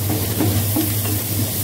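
Minced garlic sizzles in melted butter in a frying pan for a Chinese-style dish, giving a steady, close frying hiss with a low hum underneath and no talk.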